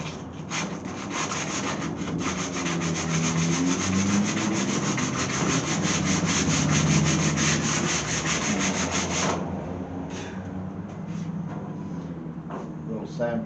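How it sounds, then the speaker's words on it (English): Sandpaper is rubbed by hand along the edge of a 1929 Chrysler trunk lid in fast, rhythmic back-and-forth strokes for about nine seconds, then a few lighter, scattered scrapes follow. "little sandpaper on the edge of that"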